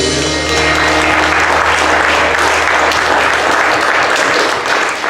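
Steady applause from a crowd at a bluegrass concert, many hands clapping continuously at full volume for the whole stretch.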